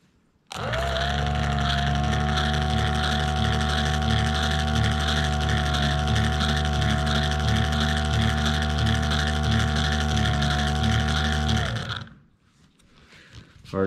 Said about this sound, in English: sounds like windshield wipers are on